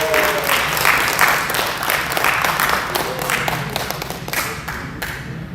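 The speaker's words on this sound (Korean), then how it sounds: "여러분, 박수와 환호로 부탁드리겠습니다." A large audience claps and cheers at a book concert in an international conference hall, dense sustained applause that stays loud throughout and eases slightly near the end, with voices mixed in.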